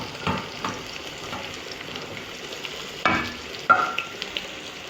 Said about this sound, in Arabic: التقلية بتاعت الرز